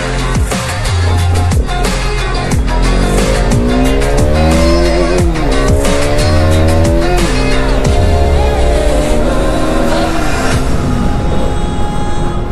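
A Bajaj Pulsar RS 200 motorcycle accelerates hard on a ride, its loud engine revving up in repeated rising sweeps through the gears, with steady wind rush throughout.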